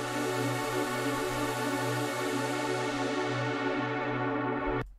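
A bright, dense synth pad sustains evenly for several seconds with a slowly pulsing low tone, ending suddenly.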